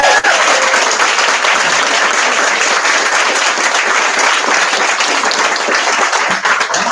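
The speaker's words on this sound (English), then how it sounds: "Please give a wonderful round of applause for Carlos Whittaker." Steady, loud applause from a seated audience at a book event welcoming an author to the podium, a dense unbroken wash of clapping that holds for the whole stretch with no talk over it.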